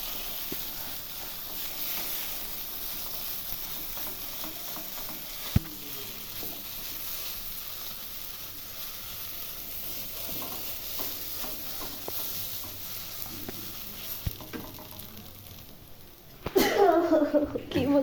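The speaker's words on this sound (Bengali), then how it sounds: "এইভাবে তেল দিয়ে ভালো করে কষিয়ে দিব," Bathua greens sizzle and hiss in hot oil while being stirred in a pan, a steady soft frying noise with occasional scrapes, growing louder and crackling near the end.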